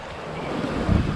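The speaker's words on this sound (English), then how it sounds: "Waves are still pretty choppy," Choppy, rolling ocean swells slap and rush around a boat pounding along about five miles offshore, with steady wind buffeting the microphone and a heavier surge of water near the end.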